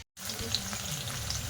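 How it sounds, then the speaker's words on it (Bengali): Boiled potatoes frying in hot mustard oil, a soft continuous sizzle close by after a brief silent start, with faint clinks over it. "ওই আলুটা আমি ভাজা করে নেব।"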